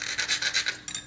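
A hand file rasps back and forth across a workpiece being cut, in a series of quick, uneven strokes that sound close and fairly loud, with no voices.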